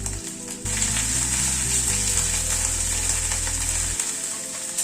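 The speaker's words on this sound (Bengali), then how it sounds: "সব দিয়ে মশলাটাকে একটু কষিয়ে নিচ্ছি।" Spice paste with garlic paste and a spoonful of ginger paste fries in a pan for an egg dhoka curry, a steady close sizzle that swells after a quiet start, with a low droning hum running beneath.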